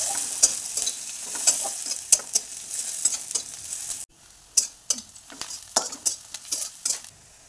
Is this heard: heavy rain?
no